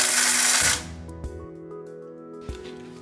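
A food processor or grinder blitzes nuts and chocolate in a loud, broadband burst that stops abruptly after under a second, followed by quiet clicks and low residual hum.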